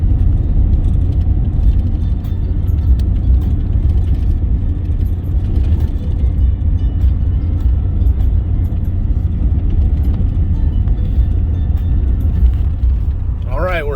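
A pickup truck cruises along a road toward a river, its engine producing a steady, loud low rumble heard from inside the cab throughout, with a brief squeal near the end.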